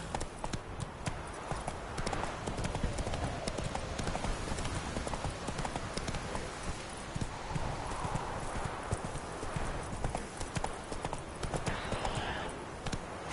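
Roach the horse galloping in a video game, a continuous rapid rhythm of hoofbeats clip-clopping up close, with an occasional brief voice over it.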